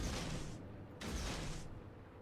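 Naval guns of the destroyer Farragut fire in World of Warships, giving two loud, booming salvo bursts in quick succession, each followed by a rumbling decay.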